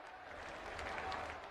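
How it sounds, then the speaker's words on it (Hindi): Audience applause at a large public event in Uttar Pradesh welcoming ministers and guests, a brief steady burst of clapping from a crowd heard at a distance. "जोरदार तालियों से सभी का स्वागत एक बार कर दें।"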